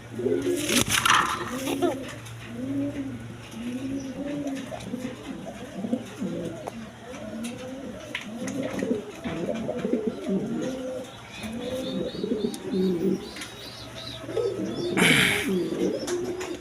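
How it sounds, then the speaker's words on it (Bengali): A pair of large Mondain pigeons coo repeatedly up close in rhythmic low phrases, with a steady low hum and occasional other faint bird chirps around them. "এখানে এক পেয়ার মন্ডিয়ান কবুতর আছে"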